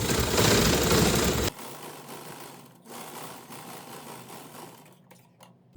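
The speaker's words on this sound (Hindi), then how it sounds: "अब इस तरह से एक ऊपर से सिलाई लगाएंगे।" An electric sewing machine runs fast and loud for a moment while stitching a dart in a blouse, then continues at a lower, steady hum with brief pauses near the end.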